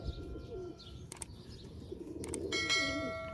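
Pigeons coo softly and low in a breeder's loft, with sharp metallic clicks and a brief ringing bell-like tone partway through, all fairly close.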